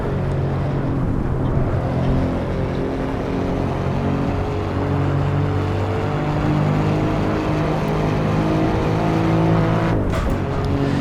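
A 2.9 V6 bi-turbo Alfa Romeo Giulia Quadrifoglio pulls hard uphill on the Nordschleife, a loud sustained in-cabin engine roar holding a rising pitch without a gear change, with a brief dip near the end.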